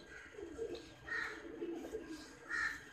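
Soft, low cooing of a breeder hen pigeon in a few short phrases, fairly close, with a faint voice murmuring in the background.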